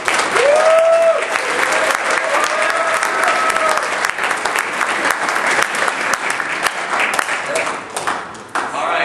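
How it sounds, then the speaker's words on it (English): Loud, sustained applause from a large audience fills the room, with a brief whistle or cheer near the start before easing slightly at the end. "a big round of applause"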